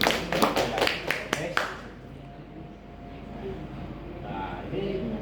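A handful of sharp, evenly spaced claps from an audience at an Indonesian product presentation, about six in quick succession, then they stop and a quieter room tone with faint voices follows.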